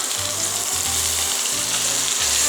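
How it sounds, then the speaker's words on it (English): Pork chops searing in a hot pan give a steady, close, hissing sizzle with a soft low crackle, and no talking over it. "our chops have been searing for about 7 minutes, and now I'm going to flip them over"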